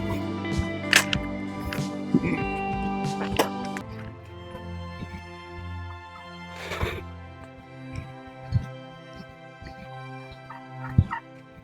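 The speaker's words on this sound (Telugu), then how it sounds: "ఈ ప్లేస్లో వచ్చేసరికి టర్కీ కోళ్ళు అయితే ఉండడం జరిగింది" Turkeys gobbling in Kotappakonda park, with several loud, rattling gobbles scattered close by over a low background hum and faint voices.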